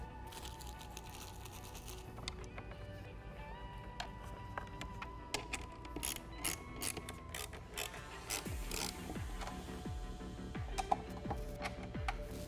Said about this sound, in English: now we're going to use these 10mm bolts to get this tightened down